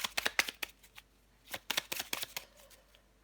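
Tarot cards shuffled by hand in quick riffling bursts, a cluster of crisp slaps early on and another after a short pause, close and fairly quiet with no talk.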